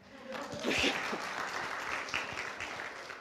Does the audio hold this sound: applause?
yes